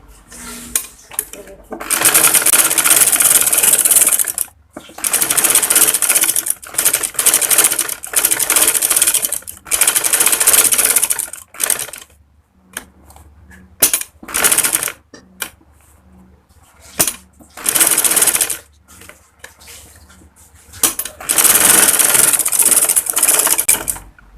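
An electric sewing machine stitching the main seam of a kurti neck, running in loud bursts of rapid mechanical clatter of a few seconds each, separated by pauses, close up.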